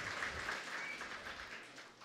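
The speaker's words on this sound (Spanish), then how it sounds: "Fuerte el aplauso para Carmen Chan, quien es un ejemplo de perseverancia." Applause for a contestant at a regional oratory contest final, a soft, distant crowd clapping that keeps a steady patter briefly before fading slightly.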